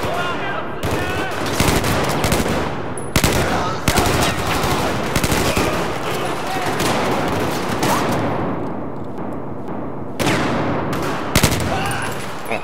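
An M16A4 rifle in Battlefield 4 fires repeated three-round bursts, loud and close, with sharp cracks recurring across the clip amid game battle noise.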